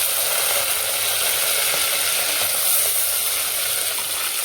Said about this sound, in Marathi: आता अर्धा लसूणची पेस्ट टाकलेली आहे मिरच्या टाकून घेते